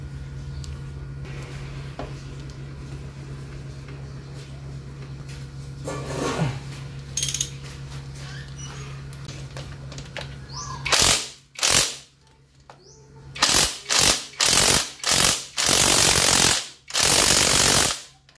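A ratchet works a screw loose on a Honda CB150X motorcycle during crash guard installation; after a quiet stretch, loud bursts of rapid clicking come in short repeated runs near the end.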